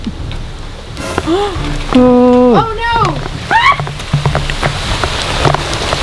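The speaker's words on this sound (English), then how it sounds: "It's starting to rain again." Steady rain hisses in the background while a voice cries out in dismay and others speak over it.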